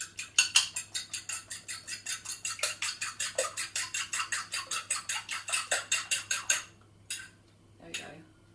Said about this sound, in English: you have to beat them to loosen them a bit.